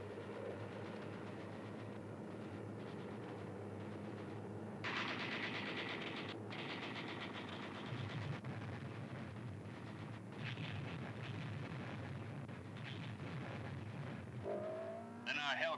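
Hellcat and Corsair fighter planes strafing jungle beaches with .50 caliber machine guns during a WWII island assault: steady rattling gunfire and roaring engines, loud and continuous, with heavier bursts swelling partway through.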